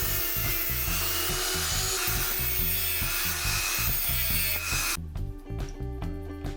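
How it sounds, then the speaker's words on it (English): Rotary tool grinding off the protruding end of a thread repair coil in an XR400 front wheel hub, a loud continuous whine with a rhythmic pulsing texture that cuts off abruptly near the end. "After some time I'm cutting off sticking out coil using rotary tool."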